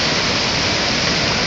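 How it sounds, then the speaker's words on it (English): Floodwater rushes through a residential yard like a whitewater rapid, a steady, loud, broadband roar with no break. "This is a whitewater rapid in somebody's fucking yard."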